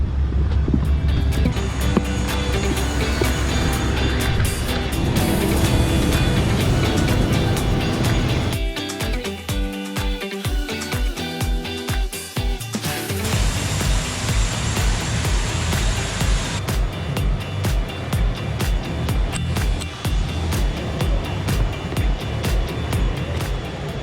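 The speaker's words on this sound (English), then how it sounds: "very loud because you just walk past all the airplanes" Loud roaring jet engines dominate throughout on an airport apron at a small airport, a dense outdoor rumble with shifting whines and a brief dip before the roar swells again.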